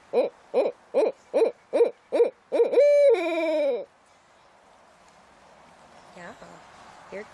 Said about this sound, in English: Yeah, you're a good owl.